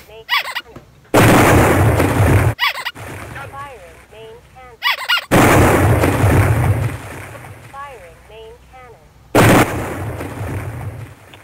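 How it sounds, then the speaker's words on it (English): Several loud explosive bursts as a Jeep blows up in an animated web series, each a sudden roar that rumbles for a second or two, with squawking chicken-like cries sounding between blasts. "Hey dude, the Jeep blew up."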